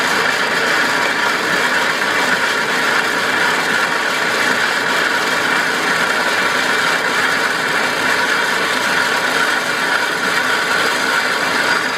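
Horizontal bandsaw cutting through metal at a slightly too-fast feed, a loud, steady, dense grinding whir with constant mechanical drone throughout, close by and unbroken.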